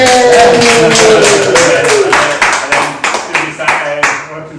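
A few podcast hosts clap together loudly and close up to mark their 60th episode, a quick burst of claps that thins into scattered separate claps, with voices over the start.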